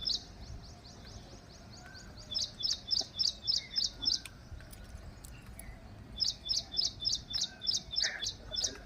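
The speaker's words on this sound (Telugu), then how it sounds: "వినండి ఈ పక్షుల కిలకిల రావాలు" Birds chirp in a peaceful natural setting in the morning, their quick repeated chirps coming in rhythmic bursts against a faint, quiet background, with no voices.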